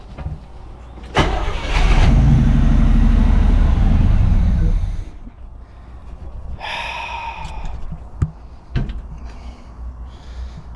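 An abandoned 1979 Z28 Camaro fires up after a carburetor rebuild, its engine roaring loudly for a few seconds before stalling and dying, followed by quieter clicks, breathing and a brief voice.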